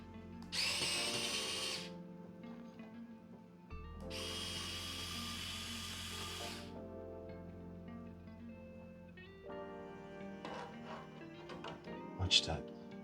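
A power drill runs close by in two long bursts, removing screws from a ceiling fan canopy mount, followed by clinking and handling of metal parts, with a voice talking in between.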